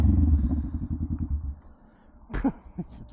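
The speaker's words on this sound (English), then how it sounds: "Listen to that Vance and Hines again." Honda Rebel 500 motorcycle fitted with a Vance and Hines exhaust, a loud throbbing engine note that pulses rhythmically for about a second and a half, then drops to a low idle before brief revving blips near the end.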